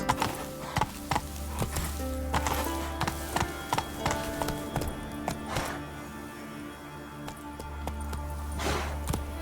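Horse hooves gallop in The Witcher 3 video game, a steady rhythmic clip-clop running through the whole stretch beneath a sustained musical score, with no talking.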